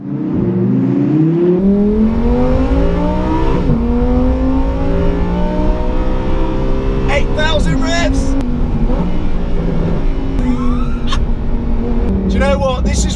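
Lamborghini Huracan EVO RWD, rear-wheel drive, driven flat out on a public road, engine revving loud and continuous, pitch climbing through several gear changes with short breaks at each shift, with brief speech and whoops over it near the end.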